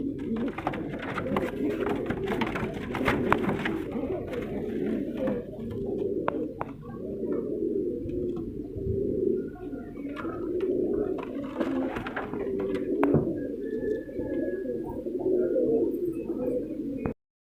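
Several pigeons coo in low, throaty, rolling bursts that repeat steadily throughout, with a few sharp clicks and flutters mixed in and quiet voices now and then in the background.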